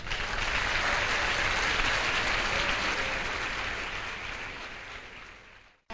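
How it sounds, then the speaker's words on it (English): A crowd at a school quiz competition final applauds steadily, dense clapping that holds strong for several seconds before tapering off toward the end. "Can we applaud ourselves?"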